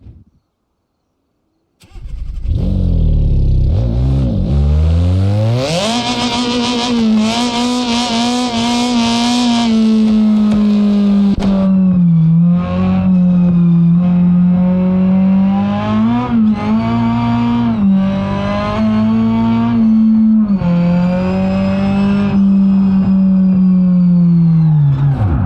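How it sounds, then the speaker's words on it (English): In the BeamNG.drive video game, a car engine cranks to life after a moment of silence, then revs repeatedly, its note climbing and dropping in loud bursts that hold at a steady idle between throttle blips. "Now let's give this car a good listen to."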